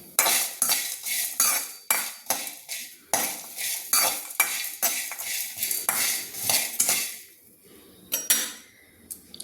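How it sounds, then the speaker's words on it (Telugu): Coconut, cinnamon pieces, shallots and ginger fry in a pan for a chicken curry masala, with a metal spatula scraping loudly in rapid, rhythmic strokes over a soft sizzle. "అన్నీ మనం కొబ్బరి, చెక్క ముక్క, చిన్నుల్లిపాయలు, ఇది అల్లం ముక్కలు మొత్తం వేసి బాగా వేయించుకోవాలి"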